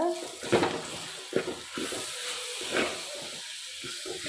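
Ground tomato and spices sauté in a pan for beef kulambu, a moderate steamy sizzle punctuated by a few stirring scrapes against the pot, heard close and fairly quiet.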